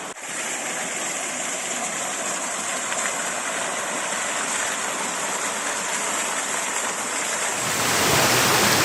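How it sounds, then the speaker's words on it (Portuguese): Waterfall of crystal-clear water on the Gralha Azul trail, surrounded by preserved forest, heard as a steady, broad rushing roar that swells louder near the end, with no voices. "essa cachoeira maravilhosa, com águas cristalinas e ao seu redor uma mata preservada"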